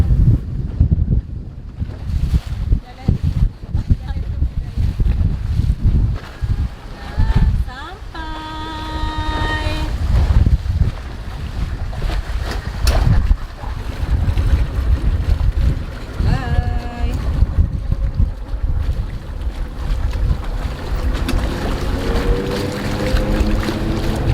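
Water taxi motorboat engine chugging steadily under wind buffeting and splashing water at Kampong Ayer, Brunei, with brief spoken voices partway through.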